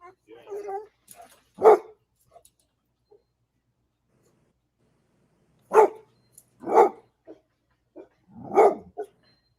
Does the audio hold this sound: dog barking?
yes